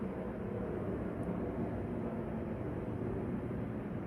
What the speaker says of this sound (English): Sorry if you hear the plane